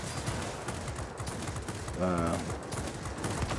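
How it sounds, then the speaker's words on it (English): Aircraft 40mm cannons fire in the World of Warplanes game, a quick burst of heavy gunfire beneath constant engine drone, with someone talking over the action. "40mm cannons, which work pretty darn well"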